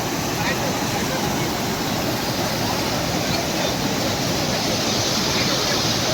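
Water rushing at Bhairav Kund, swollen after rain, makes a loud continuous roar like a waterfall that stays even from start to finish.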